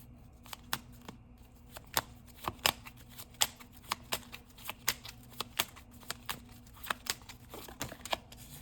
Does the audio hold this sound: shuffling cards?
yes